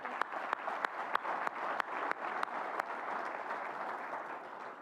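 Audience applause at a North Carolina community college awards dinner and celebration, a steady wash of many hands clapping with sharper individual claps popping through, sustained at moderate volume for the whole stretch with no talking.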